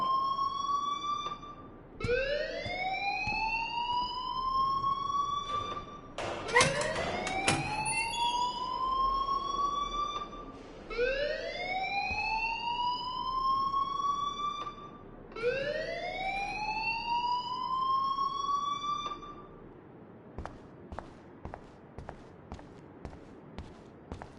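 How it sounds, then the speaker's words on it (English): An alarm wailing in the video game Life is Strange, a loud rising siren tone that repeats in several long sweeps, with a brief burst of clatter partway through and no talking. "please turn off that alarm since that's your job"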